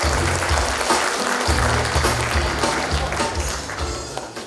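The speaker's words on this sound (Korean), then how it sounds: "여러분 다시 한번 뜨겁고 큰 박수로 박형준 시장님을 맞이해 주시기 바랍니다." An audience at a book-launch event applauds Busan Mayor Park Heong-joon. The clapping is continuous and fairly distant, over a low sustained tonal backdrop, and slowly fades.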